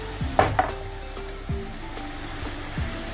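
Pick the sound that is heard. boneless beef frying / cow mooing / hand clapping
boneless beef frying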